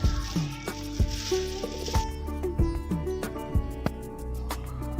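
Daal and rice reheating in a pan give a steady sizzle with scattered clinks and scrapes of stirring, close and moderately loud, with no talking.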